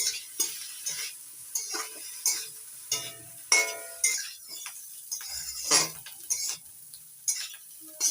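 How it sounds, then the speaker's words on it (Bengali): Salted Katla fish eggs stirred and fried in a pan, a series of distinct metal utensil scrapes and clinks against the cookware over a soft sizzle, close and fairly loud, no voices. "এবার নাড়াচাড়া করে ভেজে নিচ্ছি"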